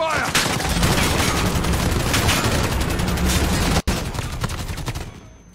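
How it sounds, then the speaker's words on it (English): Sustained gunfire in the Call of Duty Modern Warfare campaign rattles loud and close, bursts of automatic fire overlapping continuously, briefly cutting out near the end before resuming and fading away. "We're taking too much fire"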